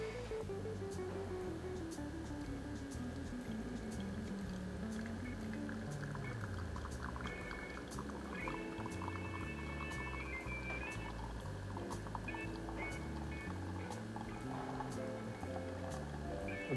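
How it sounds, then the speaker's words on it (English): A Bosch coffee maker extracting espresso, giving off a continuous bubbling hiss and pump whir, close and steady, with shifting mechanical tones as it runs. "Now it's gonna tamper it, and then we're gonna extract the espresso"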